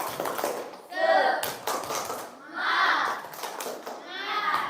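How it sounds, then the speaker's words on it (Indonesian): Children in a class repeat a rhythmic cheer clap, with brisk patterned hand clapping broken up by group chanting, energetic and near. "Sekali lagi, tepuk semangat."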